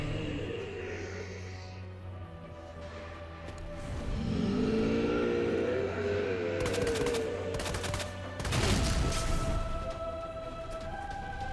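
Gunfire in the Resident Evil 2 Remake video game comes as rapid bursts of shots layered over a dense mix of game sound effects and engine-like rumble, fairly loud, with no voices.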